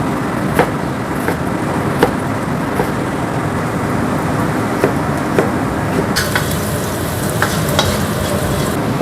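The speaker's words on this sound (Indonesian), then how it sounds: "aku mau ngoseng gubis ya" Cabbage with garlic stir-fries in a pan with a loud, continuous sizzle, broken by sharp, regular clicks and scrapes of a spatula stirring close by.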